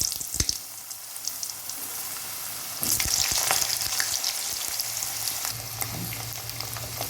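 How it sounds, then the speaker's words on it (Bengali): Potatoes frying in a pan after cumin seeds for a Bengali potato curry, a close sizzle that swells louder partway through as the potatoes go in, with clinks and stirring scrapes, no speech. "আলুগুলো দিয়ে দেবো ভেজে দেবো"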